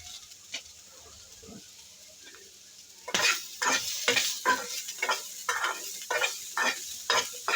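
Sweet corn and carrot snack with salt and chilli powder fries lightly in oil. After about three quiet seconds, a rhythmic run of spatula scrapes and stirring strokes starts over a soft sizzle, with no speech.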